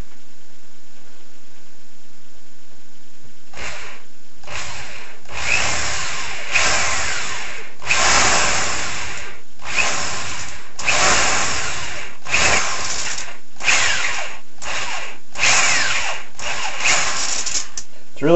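A step drill bit bores through a plexiglass sheet for an aluminum-frame solar panel, a loud whining power drill running in repeated bursts of a second or so, each separated by short pauses.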